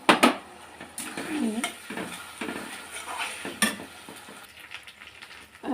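Spice paste of ground ginger, cumin and chilli frying with browned onions in a pan for a mutton curry, with sizzling and scraping stirs and clinks of a utensil against the pan, close and steady.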